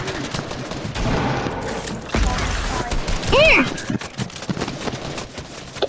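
A drum gun in a video game fires in rapid bursts, loud and clattery, mixed with game effects and shouting voices.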